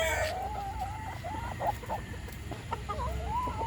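A gamecock, a half Sweater, half AC cross, clucks in a run of short, close, throaty calls over faint background noise.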